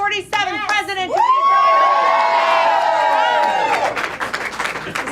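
A crowd at a political rally in South Carolina erupts in loud cheering and whooping, with sustained shouts and sharp whistles riding over the din before it gives way to scattered clapping.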